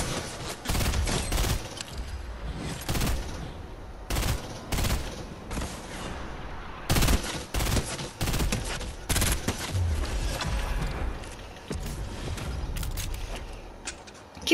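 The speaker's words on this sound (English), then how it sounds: "Keep firing rockets, man." Rapid bursts of rocket launches and automatic gunfire from a Fortnite match, with repeated loud blasts and rattling volleys filling the clip almost without pause.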